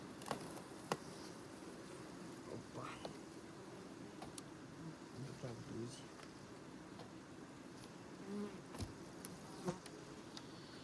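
Honeybees buzz steadily and densely close by in an open hive, a constant droning hum with occasional soft taps and clicks of handling hive frames.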